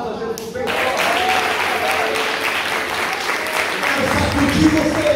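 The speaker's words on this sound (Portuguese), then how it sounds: "Você pode dar um aplauso a Jesus bem forte." A church congregation at a worship service applauds loudly and continuously, a dense wash of clapping that holds steady throughout.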